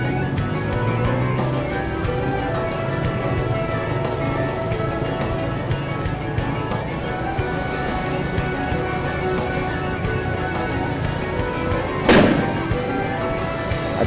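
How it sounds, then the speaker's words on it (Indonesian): Busy outdoor street noise in Purworejo, Indonesia, before the Ramadan fast-breaking, with a low rumble throughout, broken near the end by a single sharp firecracker bang. "Ada mercon."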